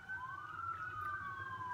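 A distant siren wails continuously, two tones crossing as they rise and fall, faint and steady with no talking.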